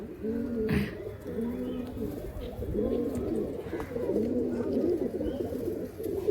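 Several pigeons coo without pause in a loft in Behala, their low rolling calls overlapping and fairly close, with a light rustle of wings and movement underneath.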